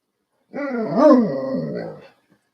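A dog growls close by, rising into a single drawn-out, grumbling bark-like vocalization lasting over a second, with silence around it.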